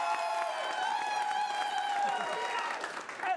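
A theater crowd at an improv comedy show applauds and cheers in a steady, dense wash of clapping that lasts throughout, with voices mixed into the noise.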